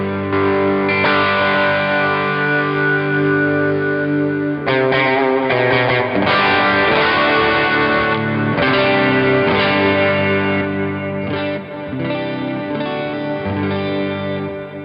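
Electric guitar run through an HX Stomp XL preset with boost and EQ, playing a continuous driven, chorus-tinged chord passage with repeated strums and a touch of echo, loud and up front with no voices.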